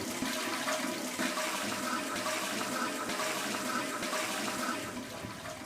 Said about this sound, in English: And everybody flushes at the same time and the toilets work